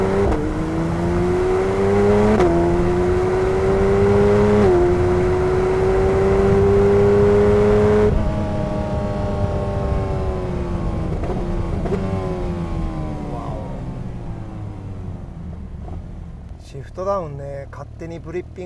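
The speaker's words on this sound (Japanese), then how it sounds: "ちょっとだけ加速してみましょうか。" A Porsche 911 GT3 RS accelerates hard, its engine note climbing and dropping with quick upshifts, then easing off into lighter running, while someone talks over it.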